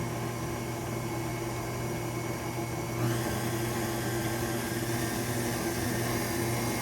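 Stand mixer fitted with a dough hook churning breadstick dough for homemade garlic breadsticks, a steady close motor whine and hum that carries on without pause.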